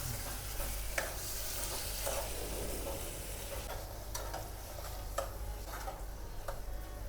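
Spice masala being stirred into potatoes for Kutchi dabeli in a hot pan, a steady sizzle with repeated scraping strokes of the spoon at a regular rhythm, close and continuous without speech.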